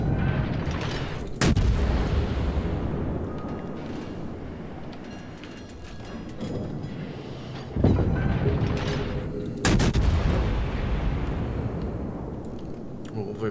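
Naval ship guns firing shells in World of Warships: a few heavy booming salvos spaced several seconds apart, each trailing into a long rumble, while someone talks over the battle.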